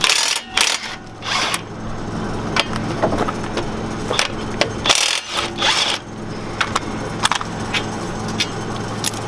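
A power tool with a 24 mm socket zaps the front brake bracket off a 2018 Dodge Ram 3500 dually, giving loud bursts of impact rattle between quieter clinks of metal parts and tools.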